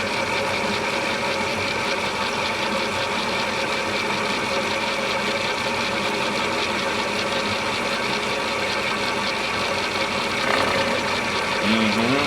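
A small power cutter grinds into the wood of a Whiscombe gun forearm, carving screw head pockets; a steady, loud, high-pitched whine runs continuously, close up, with a slight pitch shift near the end.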